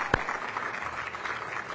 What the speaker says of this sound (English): Yeah, you can clap for that.